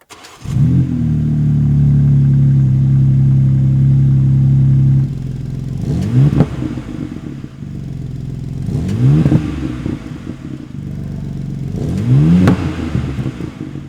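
A 2023 BMW M2 (G87) engine cranks and starts in a studio, idles at a steady rumble, then gets revved hard three times, each rev rising sharply and falling back.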